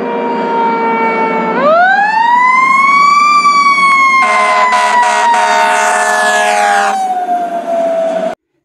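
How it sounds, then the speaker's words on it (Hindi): A fire engine siren wails loudly and close, sweeping upward and holding a long tone, with rapid horn-like blasts layered over it midway before the wail fades down; no voices. "फायर इंजन मीन्स दमकल।"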